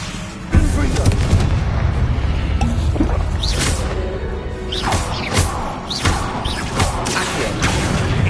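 Confringo fire spell blasts in Hogwarts Legacy, with repeated booming impacts and crackling bursts in a busy stretch of combat while a voice speaks intermittently over it.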